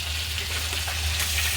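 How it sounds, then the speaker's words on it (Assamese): Fish frying in a pan gives a steady, close sizzling hiss that runs through the whole short stretch without pause. "এবাৰ মাছ ভাজিবলৈ মই আহিছোঁ"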